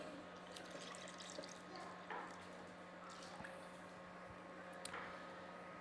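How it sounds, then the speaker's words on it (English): Six cups of milk pour steadily into a cooking pot for peppermint hot chocolate, a faint continuous liquid trickle with a few soft splashes and drips close by, no voices. "We got 6 cups of milk going into our pot."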